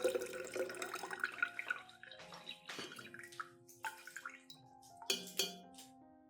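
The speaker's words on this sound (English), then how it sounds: "Here, I filter it together with the banana peel and eggshell solution." Homemade fertilizer liquid from soaked banana peels, eggshells and oats being poured through a strainer, a close splashing trickle with drips and light clinks of the container, the flow tapering into separate splashes toward the end.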